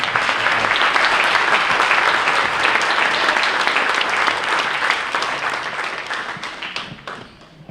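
A room full of people at a Sharing Ramadan community program gives a loud, sustained round of applause that holds strong before gradually tapering off at the close.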